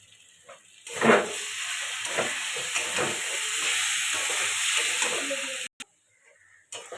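Murli fish curry with fried potatoes and a pinch of sugar being sautéed in a pan: a hissing sizzle swells in after a quiet start, broken by intermittent stirring scrapes, then stops abruptly.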